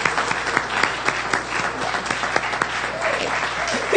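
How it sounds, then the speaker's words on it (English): A congregation claps for membership team members, steady applause of many hands with a few sharper individual claps on top, moderately loud throughout. "Give them a round of applause."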